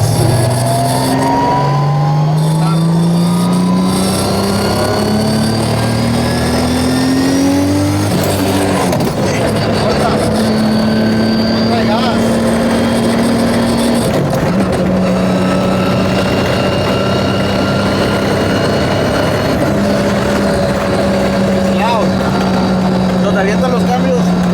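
A 1500hp Toyota Supra engine revving up through the gears, its pitch climbing then dropping at each shift, with several distinct gear changes and loud exhaust, while people talk over it.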